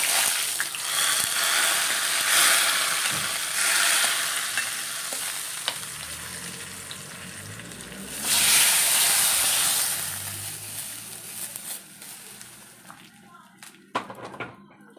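Hot tempering poured into spinach and cucumber pulinkary sets off loud sizzling bursts and steamy hiss, with surges around the start and middle, spoon clinks, and a voice talking over part of it.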